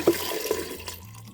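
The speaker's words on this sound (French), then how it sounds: "je mets de l'eau" Water pours into a cooking pot in a short splashing gush, with a louder slosh at the start and a second splash, then a fading trickle.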